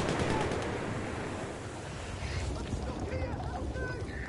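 Gunfire in the Battlefield 1 video game, heard as continuous rattling bursts that sit under loud, shouting chatter from players throughout.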